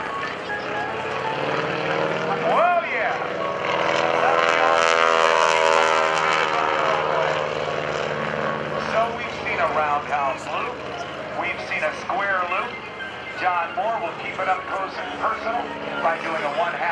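A propeller aerobatic airplane flies a square loop low over an airshow crowd, its engine droning loudly and steadily with pitch sweeps as it climbs and turns, while an announcer talks over it.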